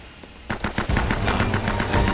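Rapid gunshots from the action game Uncharted: Drake's Fortune, a quick burst of sharp cracks starting after a brief lull and continuing densely to the end.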